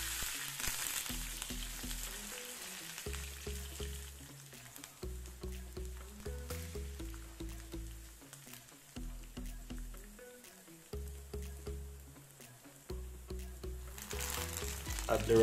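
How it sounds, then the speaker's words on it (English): Sliced scallion, garlic and thyme frying in a pan, a soft sizzle broken by repeated stirring or scraping movements, close by and fairly quiet, with no talking. "add the sliced scallion, garlic and thyme first and let them brown a bit"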